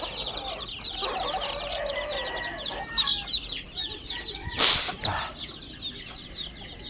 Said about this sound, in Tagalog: Ang ating mga sisiw naman.